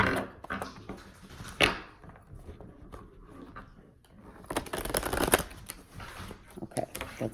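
Playing cards are riffled and shuffled close up in several bursts of crisp fluttering clicks, with quieter handling noises between them.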